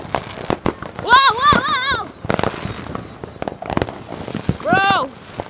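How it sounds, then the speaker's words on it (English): Fireworks bursting and crackling in a series of loud pops outdoors, with excited people shouting and whooping over and between the blasts. "The fireworks!"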